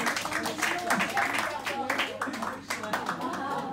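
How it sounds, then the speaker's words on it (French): A conference audience applauds a clown musician after her introduction, with a burst of clapping that runs throughout, mixed with voices and talk. "Vous pouvez l'applaudir"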